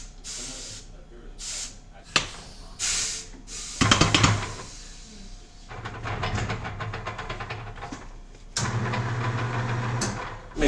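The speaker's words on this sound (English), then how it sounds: "What is this stuff you sprayed on it? Just a cleaner." Cleaner sprays onto the front wheel of a Harley Sportster in several bursts of hissing, close and fairly loud, with voices talking between and over the sprays.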